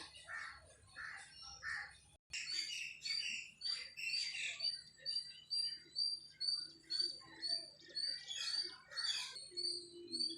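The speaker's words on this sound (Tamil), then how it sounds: "பூ மேலே ஒரு பறவை உட்காண்ட்ருக்கு பாருங்கள்" Small birds chirp and tweet repeatedly in quick bursts, fairly faint and outdoors, with a steady low hum underneath.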